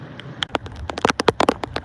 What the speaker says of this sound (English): Yeah, it's raining pretty good now.